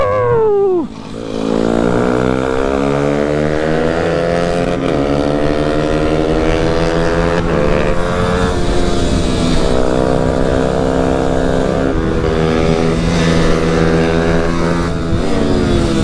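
Race motorcycle engine screaming at high revs throughout, its pitch climbing and shifting with gear changes as it pushes to overtake, loud and close with no pause.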